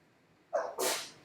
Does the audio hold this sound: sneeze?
yes